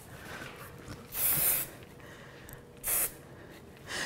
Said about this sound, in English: So the hairspray now acts as a way to give me more texture, more dimension, and it gives me a lot more movement.